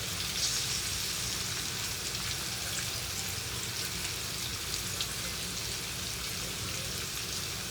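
Green tomato slices frying in hot grease give off a steady, dense crackle and sizzle that stays even from start to finish, with no voices.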